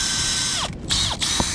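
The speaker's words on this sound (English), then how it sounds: "So I just get the drill and put a little hole in it." Power drill boring a small hole through a plastic container lid: a steady high whine running nearly throughout, with two brief dips as the bit pushes through, close and fairly loud.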